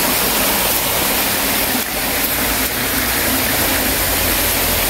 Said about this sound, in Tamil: இதுதான் அந்த குட்டி ஃபால்ஸு